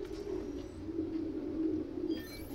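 Pigeons coo in a city park in the game Spider-Man: Miles Morales, a low rolling burble that repeats steadily and moderately close, with a faint higher tweet near the end.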